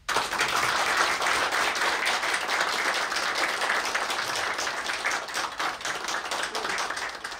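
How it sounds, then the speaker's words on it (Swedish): An audience applauds at a Swedish award ceremony honouring work on cultural heritage, a dense, sustained round of clapping from many hands that holds steady and then gently tapers. "En applåd."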